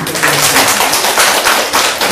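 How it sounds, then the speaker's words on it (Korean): Lecture audience giving applause after a Korean literature talk, a loud, close burst of many hands clapping continuously with no voices over it. "좋은 강의를 해주신 여사님께 다시 한번 감사의 박수 부탁드리겠습니다."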